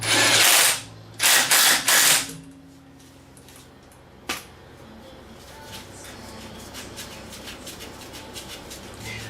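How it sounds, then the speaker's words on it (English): Ratcheting on the lower ball joint nut of a 1997-2004 Ford F-150 front suspension: a few loud bursts of rapid clicking early on, one sharp knock, then a steady low mechanical background. "Let's get this nut on here, tighten it up, and then we'll torque it down."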